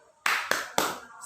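Children doing the 'tepuk semangat' clap chant in a classroom: three sharp, loud claps or slaps spaced evenly about a quarter second apart, each with a short decaying tail and no voices.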